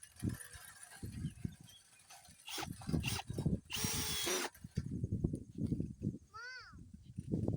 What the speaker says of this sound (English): I use a star bit and a star screw, and we're going to go ahead and anchor that in.